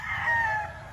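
A rooster crows briefly and fairly close on a farm in the Philippines, with faint background chicken sounds.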